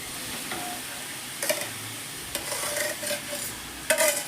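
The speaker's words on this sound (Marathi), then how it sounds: "हा बटाटा छान आपण तेलावरती परतून घेऊया" Boiled, hand-mashed potato sautéing in oil in a pan for Mumbai-style vada pav. A soft, steady sizzle runs throughout, with a few sharper stirring scrapes and clatters. Nobody speaks.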